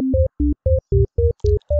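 A MIDI sequence played on an internal synth: eight evenly spaced short vibraphone notes at varying pitches, each landing together with a bass note and drum hit, separated by brief gaps of silence.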